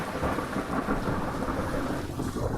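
Thunder sound effect from a paid stock library: a continuous, loud rumbling roll of thunder mixed with steady rain hiss, sustained throughout with no talk.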